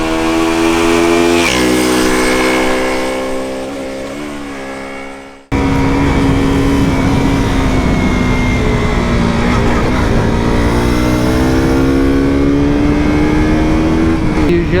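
A KTM RC 125 motorcycle engine revs hard while riding, climbing steadily in pitch, dropping briefly on a gear change, then droning loud and close with steady wind rush.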